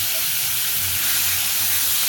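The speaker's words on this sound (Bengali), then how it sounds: "এদিকে আলুটা আগে ভালো করে ভাজা করে নেবো" Potato pieces fry in a hot pan with a loud, constant sizzling hiss that holds steady from start to end, with no one talking.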